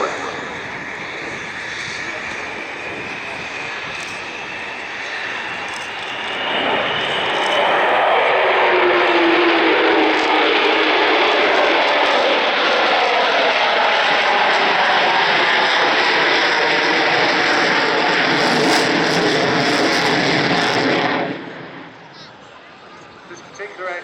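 Avro Vulcan XH558 jet bomber, the first B2 Vulcan in service in 1960, roaring loudly overhead at the Dunsfold air display, swelling into a sustained, rushing jet roar that holds steady before cutting off sharply near the end.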